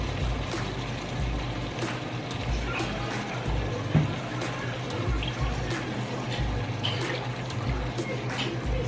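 Water is poured into tomato sauce in a cooking pot, making a soft, continuous splashing trickle that lasts several seconds against light kitchen background noise.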